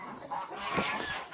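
A goose calls out with a short, faint honk somewhere nearby in a farmyard shed, heard alone.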